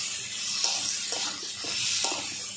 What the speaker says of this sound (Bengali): ভালো করে আমি মশলা কষে নিচ্ছি